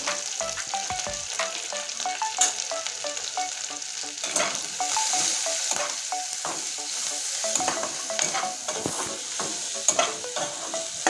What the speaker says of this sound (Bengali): এবার সুন্দর করে ভেজে নিব